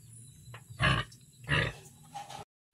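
Pigs grunting at feeding time, two loud, close, rough grunts followed by a softer one, then sudden silence.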